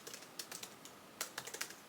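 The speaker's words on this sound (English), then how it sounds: "I'm sorry that you're going to be coming along with me through all this typing" Fingers typing on a computer keyboard nearby, two short bursts of quiet clicking keystrokes separated by a brief pause, with no talking.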